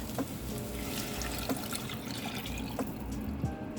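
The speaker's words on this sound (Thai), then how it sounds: "เราก็จะเติม น้ำของเห็ดโมรี่ลงไปเพิ่มเติมนะคะ" Morel mushroom soaking water poured into a pan for a steak sauce: a steady close trickle with faint drips running throughout, with no talk.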